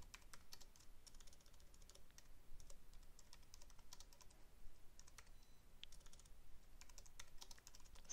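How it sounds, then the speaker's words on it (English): Steady, quiet clicking of keys as someone types on a computer keyboard, with fast irregular keystrokes running throughout and no speech. "So I'm going to type in"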